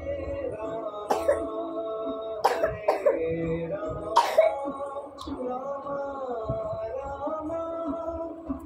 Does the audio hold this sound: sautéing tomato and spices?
no